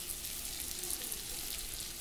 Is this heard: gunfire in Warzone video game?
no